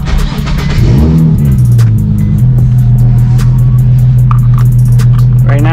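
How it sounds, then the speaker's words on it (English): A Nissan 350Z fitted with a Tomei exhaust cranks and fires up, the engine catching with a rising flare before settling into a loud, steady, deep idle heard up close. "I'll probably gotta turn the car on first."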